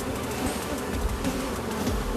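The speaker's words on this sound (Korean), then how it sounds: "여왕벌을 벌통에 먼저 넣어주고 그 인근의 꿀벌들을 털어주는데요" Honeybees being shaken from a frame into a hive after the queen is placed inside, giving a steady, dense, close buzzing swarm drone that holds throughout with no voices.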